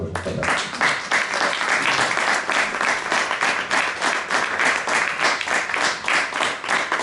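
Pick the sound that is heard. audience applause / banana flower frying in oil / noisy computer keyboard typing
audience applause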